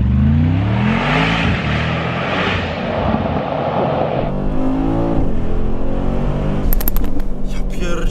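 A Brabus G800 accelerates hard, its engine note rising in rolling harmonic sweeps before a gear change and another climb, loud and close, with people talking over it.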